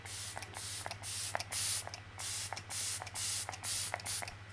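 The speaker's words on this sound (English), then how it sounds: "Has a nice spray on it, a little aggressive, but it's nice and even." Lancome Fix It Forget It makeup setting spray pumped in a quick run of about nine sharp, close hissing bursts with short gaps between them, a faint low hum underneath.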